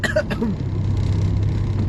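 A short cough or throat clear right at the start, close and brief, followed by a low engine-like hum.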